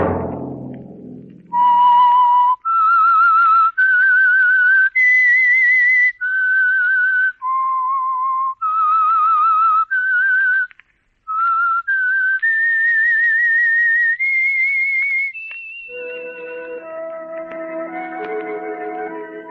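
A single person whistles a clear, bright melody of held notes with brief pauses, close and loud, ending as music swells in underneath.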